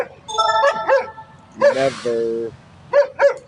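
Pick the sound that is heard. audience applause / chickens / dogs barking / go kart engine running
dogs barking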